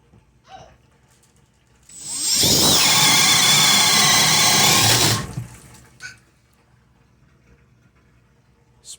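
Makita XPH14 hammer drill in speed 2 driving a 1 1/4-inch Diablo paddle bit through a thick wooden header, a loud, steady whirring bore lasting about three seconds, with faint knocks before and after.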